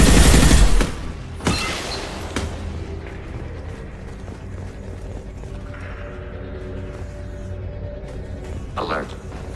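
Turret gunfire in Mass Effect 2: a loud burst of rapid shots opens, followed by a couple of sharp single reports, then a low mechanical hum with faint game sounds and a brief voice near the end.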